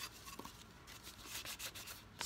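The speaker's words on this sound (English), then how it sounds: "I take a little water on my sandpaper and I just follow my grain and I rub it out." Wet sandpaper rubs back and forth along the grain of a wood surface being prepped for painting, a faint, close, scratchy swishing in quick irregular strokes with no talk.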